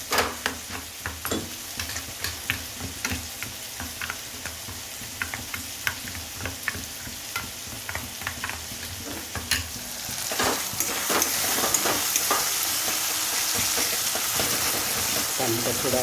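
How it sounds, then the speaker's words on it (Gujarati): Okra being stirred in a pan with chili and salt, a steady sizzle beneath repeated scraping strokes of a spoon, the frying growing louder and denser midway through. "સરસ બધું આપણે મિક્સ કરી દઈએ."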